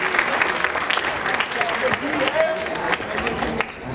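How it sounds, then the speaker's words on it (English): A crowd claps at a live hip-hop show, uneven and moderately loud, with crowd noise and voices mixed in among the claps. "Clap it up, people. Clap it up."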